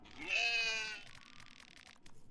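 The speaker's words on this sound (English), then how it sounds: "A goat!" A goat in the horror video game Fear and Hunger 2: Termina gives one drawn-out, nasal bleat of about a second, clear and moderately loud, before fading into soft background noise.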